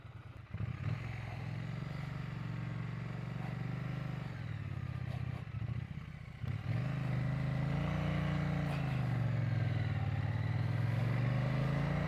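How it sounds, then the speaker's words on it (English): Motorcycles roar past on Arizona Route 89A, a popular motorcycle road, engines rising and fading one after another, loud and fairly close throughout. "we do have some two-wheeled motorized friends popping through"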